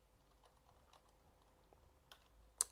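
Faint, sparse keystrokes on a computer keyboard while typing into a Google Drive document, a few soft clicks ending in one sharper tap, close and quiet.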